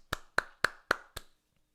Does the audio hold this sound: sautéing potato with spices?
no